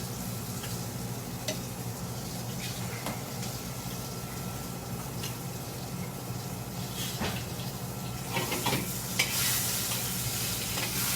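Capellini pasta is stirred in a pot of boiling water, giving a steady bubbling hiss with soft scraping stir sounds and a few louder splashes toward the end.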